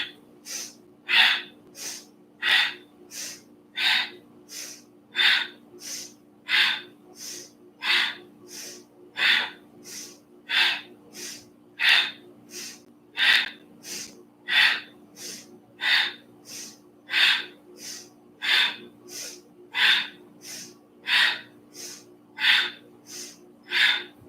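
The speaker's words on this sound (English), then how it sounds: "Powerful breathing again, right? So you really want to pump the air out on your exhale." Forceful, rhythmic yoga exhales pumped out through the nose in a steady series of about twenty sharp breaths, close and clear with no talking over them.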